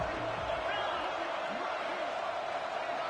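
A football stadium crowd roars in a steady, dense wash of cheering on a big third-down play, with a commentator talking over it.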